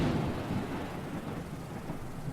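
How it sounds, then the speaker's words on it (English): A deep, rolling rumble of thunder, loud at the start and slowly fading into a steady low roar, with no voices present. "Thunder."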